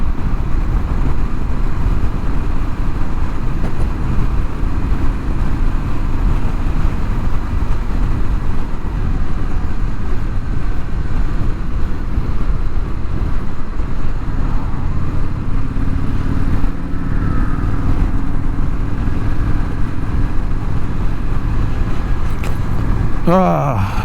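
A 2025 Indian Scout Sixty motorcycle cruising at sunset, its steady engine drone mixed with loud rushing wind noise that stays constant throughout, recorded from the rider's position with no clear talking.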